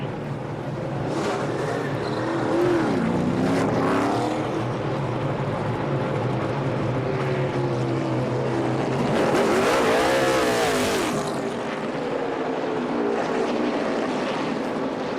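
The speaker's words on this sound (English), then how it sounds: "Here's Jeff Gordon coming to turn 6" NASCAR Cup race cars at Watkins Glen during the 2014 Cheez-It 355 roar continuously, engines rising and falling in pitch as they pass, with a loud close pass swelling mid-clip over steady track noise.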